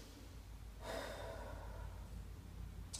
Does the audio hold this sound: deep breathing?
yes